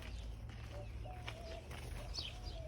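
Backyard chickens cluck softly in an urban garden and farm, with a few short clucks and brief chirps spread over a steady low outdoor rumble, fairly faint and with no talking.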